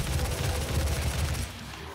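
Rapid gunfire from a favourite rifle in the video game Doom, a dense continuous volley of shots with heavy low thump, loud and uninterrupted before tapering at the end.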